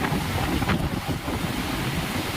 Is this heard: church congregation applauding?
no